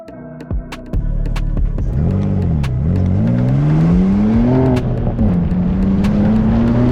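A BMW M2 engine revs hard and accelerates, its pitch climbing steadily through the gears with a loud, close exhaust note. Brief clicks come first, then a sustained rising roar with short dips at each shift.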